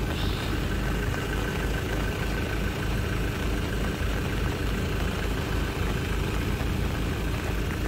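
A fuel delivery truck idles in a rainy video game scene, its low engine drone steady and continuous throughout, mixed with an even wash of background noise and no voices.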